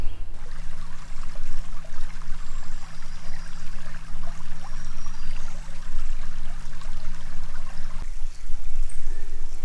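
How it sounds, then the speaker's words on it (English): Chapel Creek runs beside a campsite at Pictured Rocks National Lakeshore, giving a steady, close rush of flowing water that holds an even level throughout, with a faint low hum underneath and no talking. "So this is the Chapel Creek right behind our campsite."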